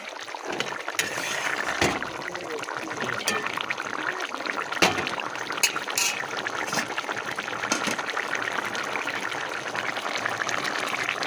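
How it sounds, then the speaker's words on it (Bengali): Bottle gourd curry boils hard in a pot on a gas stove, giving a steady, close bubbling and churning that runs without a break, with a few sharper pops. "এই যে লায়ের তরকারিটা দেখতে পাচ্ছ এটা একটু জোরে করে দিলাম গ্যাসটা টকবগিয়ে ফুটুক"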